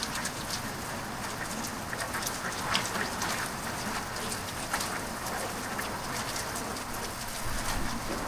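Heavy rain falling in Melbourne, a constant dense hiss of drops on surfaces, steady and moderately distant, with faint bird coos in the background.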